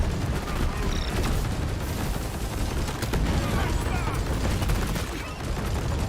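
An automated sentry gun in the Deep Rock Galactic video game fires continuously in dense rapid bursts, loud and close, layered with crackling impacts and battle noise that never lets up.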